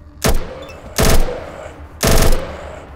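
Three separate gunshots from a weapon in the post-apocalyptic RPG Atom RPG, fired about a second apart at the Old Hospital, each a sharp close crack with a short decaying tail.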